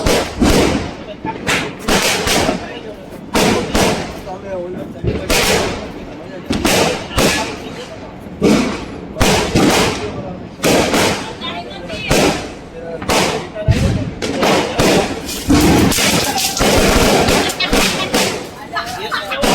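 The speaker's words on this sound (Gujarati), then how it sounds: "જો આટલા બધા ફટાકડા બધા એ ફોડ્યા હતા" Diwali firecrackers burst one after another in loud, close, sharp bangs and thuds, packed densely with rapid crackling volleys and little pause between explosions.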